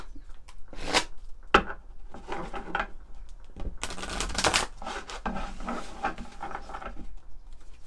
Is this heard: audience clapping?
no